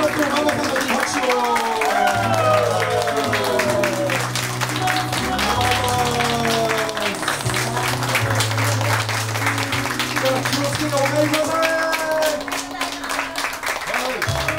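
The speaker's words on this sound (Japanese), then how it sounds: "B-flatのママさんに拍手を。" Audience applause at a fan gathering at the B-flat venue, steady dense clapping mixed with crowd voices and sustained low music tones throughout, easing slightly near the end.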